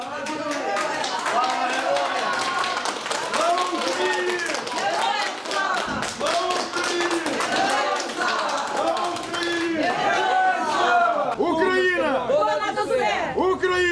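Crowd outside a hospital in Boryspil applauding wounded soldiers being sent abroad for treatment, sustained rhythmic clapping mixed with chatter and voices, with shouted chants rising toward the end.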